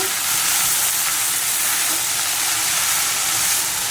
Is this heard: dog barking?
no